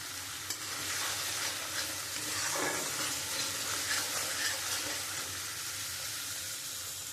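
Spice paste sizzles steadily in a pan for dahi potol while a spoon stirs it, a continuous close frying hiss with scraping strokes and no talking.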